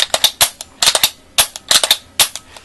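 Paintball marker fired without its barrel, a rapid series of sharp, loud, close pops in quick bursts of two to four shots, with no talking.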